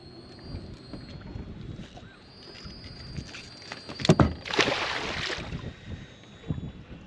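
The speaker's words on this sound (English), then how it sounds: "I apologize if there's wind noise." Strong wind buffets the microphone outdoors on the water while fishing, rising into loud gusty roars in the middle of the clip, over a quieter background of wind and lapping.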